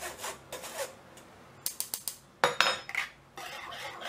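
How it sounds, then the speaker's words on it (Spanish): Yogurt cake batter being stirred in a bowl, giving soft scraping rubs with a few sharper clicks of the utensil against the bowl, close and fairly quiet, with no talking. "Y remuevo un poquito."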